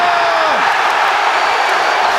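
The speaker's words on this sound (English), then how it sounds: "And the crowd goes wild" A UFC fight crowd roars continuously after a knockout, a loud dense wall of cheering and shouting with no break, a few brief whistles or whoops rising above it.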